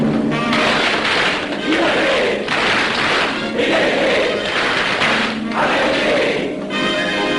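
Masonic lodge brethren give the ritual triple clap and a loud collective acclamation, a dense crowd of voices shouting in several bursts over sustained rhythmic clapping in a reverberant hall.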